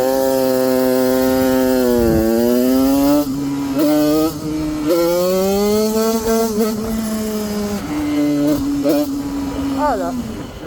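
A moped fitted with a Parmakit 110 cylinder kit revs loudly and near, its two-stroke whine climbing and falling repeatedly through gear changes, with brief dips between revs.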